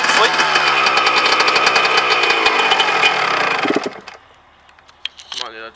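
A Nissan S13 with a turbo conversion idles with a rough, knocking, buzzy drone for several seconds before cutting off, leaving quiet space where a person then speaks briefly.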